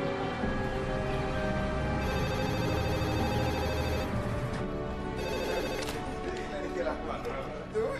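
A desk telephone rings with repeated electronic bursts, loud and close, while people talk in the background.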